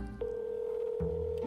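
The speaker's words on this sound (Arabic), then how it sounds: "خلنا ادق له تلفون." A telephone being dialed: a sequence of steady electronic tones that shift pitch a few times in quick succession, heard clearly with no voices.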